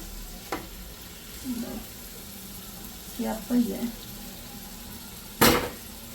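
Minced meat (qeema) sizzles in a pan as it is fried and stirred, with soft scraping bursts and one sharp clatter near the end over a steady low frying hiss.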